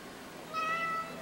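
A single short, high meow from a cat, fairly close and clear over a quiet background.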